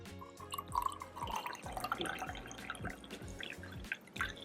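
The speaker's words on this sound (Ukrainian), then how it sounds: "Спочатку заливаємо сюди 160 мл води." Water pouring into the base of a moka pot coffee maker, a quiet, close trickle with small splashes and drips over a few seconds.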